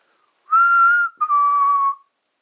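Two clear whistled notes, the first held steady, the second slightly lower and gliding down, in an otherwise silent room.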